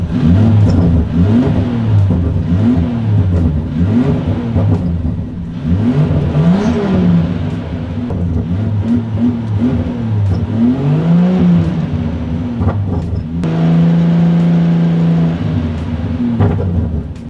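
A car engine with a manual transmission revs repeatedly under varied throttle inputs, its pitch rising and falling in sweeps, then holding steady at a raised speed near the end, loud and close.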